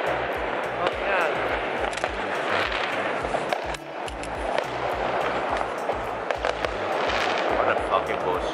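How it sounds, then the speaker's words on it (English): Fireworks bursting in a rapid, continuous barrage of loud, close pops and cracks with low booming thumps, people talking over them. "5 minutes break in between fireworks, which I've never seen in my life"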